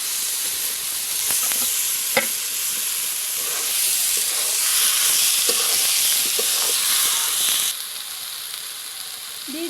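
Boiled jackfruit tipped into fried spice paste in a hot pan, a loud continuous sizzle and hiss with scraping stirs and a few clinks, easing off near the end.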